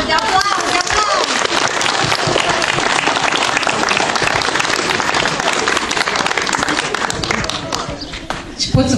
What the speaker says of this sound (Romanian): Aplauze, aplauze, aplauze!